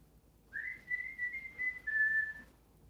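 A parrot's single sustained whistle, clear and steady in pitch, held for about two seconds against near silence.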